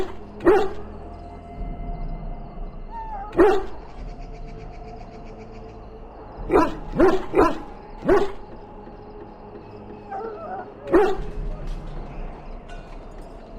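Dog barks in the fantasy role-playing game Dragon Age Origins, a handful of sharp barks spaced irregularly over a low ambient background, some in quick clusters, with no talking.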